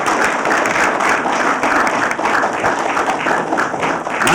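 An audience breaks into dense, even applause, many hands clapping together in a steady wash that holds loud and near for the whole stretch.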